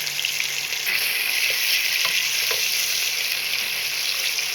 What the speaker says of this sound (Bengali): এখন দিয়ে দিচ্ছি একটু আদা বাটা এবং একটু রসুন বাটা